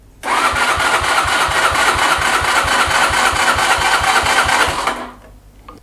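A newly installed engine on a Mash Fifty motorcycle is cranked over by the starter for about five seconds, a loud, close, rapid rhythmic churning that does not catch, then stops abruptly into quiet.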